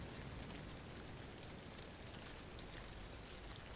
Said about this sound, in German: Und dann noch Regen.